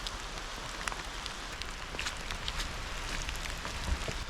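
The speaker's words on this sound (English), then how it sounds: "today's about Glen Tilt in the pissing rain" Heavy rain on the Glen Tilt trail in Scotland, a soft, steady patter of drops close by with a few brighter taps, fairly quiet and unbroken, with no one speaking.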